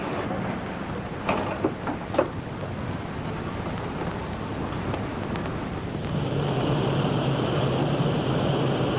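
A vacuum cleaner in a cellar: a few scattered knocks and rustles, then a loud, steady motor drone with a high whine starts partway through and runs without a break to the end, with no talk.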